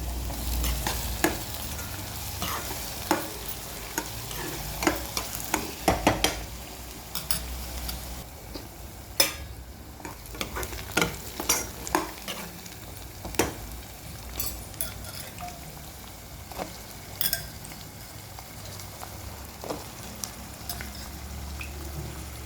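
Drumstick pieces fry in a pan for a cashew curry, giving a steady low sizzle throughout, with frequent clicks and scrapes of stirring on top.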